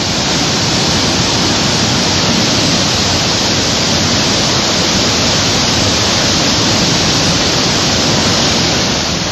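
Floodwater released from a dam rushes down hillsides as a loud, dense, unbroken roar that holds steady throughout.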